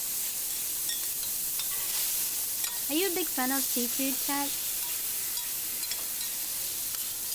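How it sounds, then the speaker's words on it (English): Scallops fry in a pan with a steady close sizzle and hiss that runs throughout, while someone talks briefly over it. "I love scallops. The sizzle. It does sound so good."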